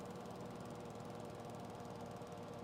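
A farm tractor engine runs steadily nearby, a continuous low rumbling drone with a knocking, idling texture throughout and no voices.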